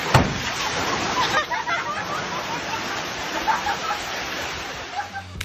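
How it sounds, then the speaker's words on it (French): Water sloshes and surges in waves inside a pick-up truck bed, a dense, steady splashing wash that stays fairly loud and continuous throughout, with no speech. "il y a même des vagues et de superbes chutes d'eau, comme dans les parcs aquatiques"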